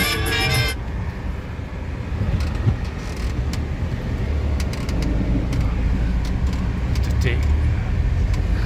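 A car drives on a paved road in Brazil's southern Pantanal. A steady rumble of road and engine noise fills the clip with an even level, heard from inside the vehicle, with a few light knocks and clicks.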